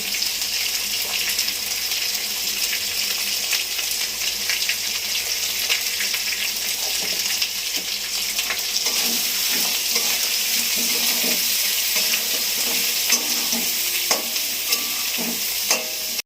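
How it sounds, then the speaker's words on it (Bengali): Water is poured into spices frying for a crab curry, making a steady, loud sizzle and watery rush. Stirring scrapes run under it throughout, close up and with no voices. "মশলা ছিল বাটিতে ধুয়ে জল দিয়ে দিল জল দেবো"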